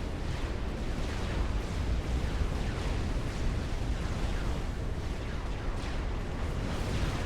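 Weaponized plasma fire pounds units in a Supreme Commander battle, a dense, continuous roar of overlapping blasts and rumbling impacts with no clear gaps.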